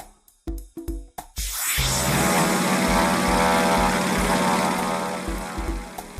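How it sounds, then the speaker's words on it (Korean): A propeller airplane drones steadily and loudly after a few short knocking sounds, its engine tone sustained without talk. "The airplane."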